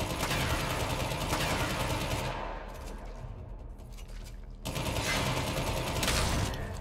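Rapid, dense gunfire from the Akjagara pistols in Warframe, each shot triggered separately, loud and continuous, easing briefly in the middle before another burst of shots.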